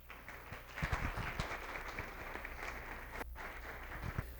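An audience at a panel event applauds steadily for several seconds, a dense, moderately quiet wash of clapping with a few sharper claps standing out near the start and end.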